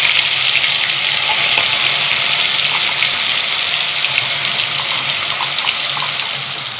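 A loud, close, continuous hiss of onion-tomato paste sizzling in hot oil, dense and steady throughout, easing slightly toward the end.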